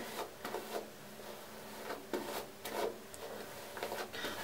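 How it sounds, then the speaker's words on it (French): A hairbrush pulls through detangled hair after three weeks of mini-twists, making quiet, close, rhythmic rubbing strokes, several in a row with short pauses between them. "j'attrape ma brosse et j'y vais"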